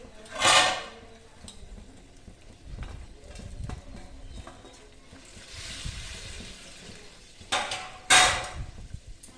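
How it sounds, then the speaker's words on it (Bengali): Green chillies and pieces of katla fish go into a pot of boiling curry, making a sharp splash and clatter at the start and again near the end, with faint clinks and bubbling in between; no one speaks. "এবার আমি এর মধ্যে কাঁচা লঙ্কা আর মাছগুলি দিয়ে দেবো"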